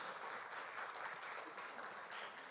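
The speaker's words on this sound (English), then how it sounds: "Give yourselves a round of applause." Audience applause at a Best Village folk music and dance finals, steady even clapping heard from a distance and fairly faint, with no voices over it.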